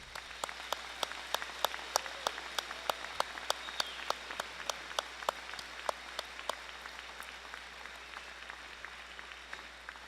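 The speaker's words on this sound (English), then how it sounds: "We can give them a round of applause." A round of applause at the 2014 Hempstead High School commencement, sparse and fairly distant, with individual claps standing out in an irregular patter that slowly thins over ten seconds.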